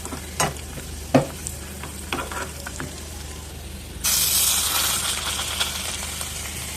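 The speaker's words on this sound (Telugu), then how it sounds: "గుమ్మడిపప్పు ఇలా మొత్తం వేయించుకోండి" Pumpkin seeds and sunflower seeds being roasted in a pan for pumpkin halwa, with a few loud scrapes and taps of a spoon stirring at first, then a steady bright sizzle that rises and continues to the end, close up.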